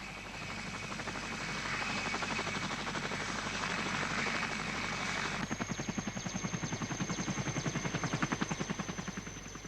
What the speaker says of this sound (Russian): Улетел вертолет